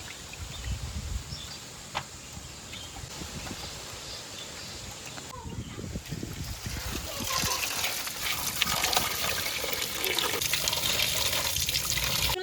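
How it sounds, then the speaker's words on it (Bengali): Running tap water rinses fresh tilapia fish in a kitchen sink, a continuous splashing trickle that grows fuller and louder partway through, with some handling clatter and a voice speaking over it. "জল দিয়ে ধুয়ে নিয়েছি এবার লবণ দিয়ে মাখিয়ে ধুয়ে নেব"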